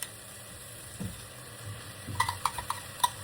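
Spice paste stirred into a pan of sea fish, a low frying sizzle with scattered metallic scrapes and clinks of the utensil against the pan, growing busier toward the end.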